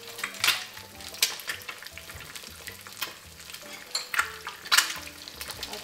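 Eggs frying in olive oil in a pan, with a steady close sizzle and crackle, stirring and scraping scattered through, and a few louder spits and pops, no talking.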